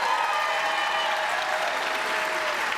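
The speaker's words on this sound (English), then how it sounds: "Listen to that applause out there" Sustained audience applause from a theatre crowd, a dense steady wash of many hands clapping at a distance, even and unbroken throughout.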